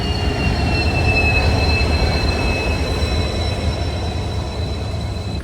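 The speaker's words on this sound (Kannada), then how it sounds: "ಬಂತು ಟ್ರೈನ್ ಬಂತು." A passenger train rolls into a station, its steady loud rumble of wheels on rail joined by thin, high wheel squeal running throughout.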